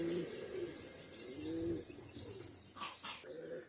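Pakistani Oman Teddy pigeons, a confirmed male and female pair, give low rolling coos near at hand over a constant high electrical whine.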